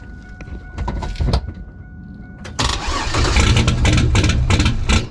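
A turbocharged 3800 V6 in a Camaro that sat unused for two years cranks briefly, then catches and roars to life, settling into a loud, rough, steady run close by.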